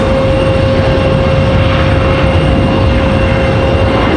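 A United Boeing 737 jet at Raleigh-Durham airport produces a loud, steady engine roar with a sustained whining tone, heard continuously and close with no talking.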